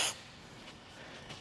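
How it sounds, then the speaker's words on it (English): Cleaner is sprayed onto the surface where a sensor cradle mounts, one brief sharp hiss at the very start, followed by a quiet faint room tone. "So all you got to do with the cleaner is spray where you're going to mount the"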